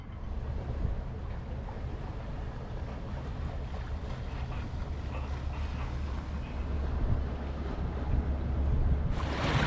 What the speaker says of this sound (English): This is us sailing up the Alsund, and now we're through the town of Sønderborg